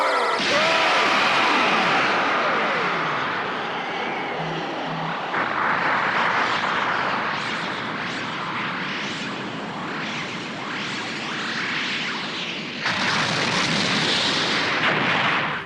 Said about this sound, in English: Blasters fire!